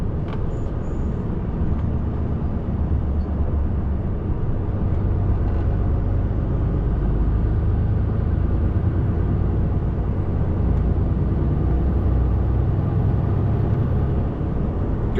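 Heavy motorway traffic on the M1 rumbles past continuously, a van and cars rolling by with a steady low roar and swelling engine and tyre noise, loud and close, no talking.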